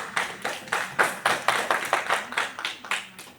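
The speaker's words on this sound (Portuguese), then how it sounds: "Pode sentar e bate palmas para o Senhor Jesus." A church congregation claps hands together in a steady rhythm, roughly three claps per second, loud and close, with no talking over it.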